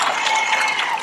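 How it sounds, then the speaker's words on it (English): Audience applause after a church talk on sexuality and the Bible, a brief burst of dense clapping at steady volume. "You can give me my claps, it's all right."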